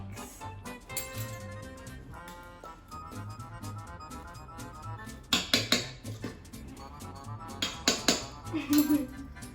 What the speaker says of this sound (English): Now, mix.